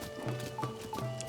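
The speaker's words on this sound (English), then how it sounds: "we got a gold horse that used to be Princess Zelda's" Horse hooves clip-clopping in The Legend of Zelda: Tears of the Kingdom as a gold horse, once Princess Zelda's, moves along; a few close, steady hoofbeats with a brief whinny-like tone, no talk.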